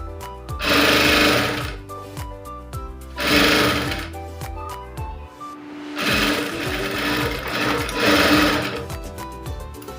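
A sewing machine stitches the front part of a blouse in loud close bursts of rapid mechanical whirring, four runs of about two seconds each separated by brief pauses and clicks.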